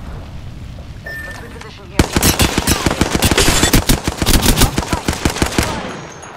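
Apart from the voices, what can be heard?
gunfire in a video game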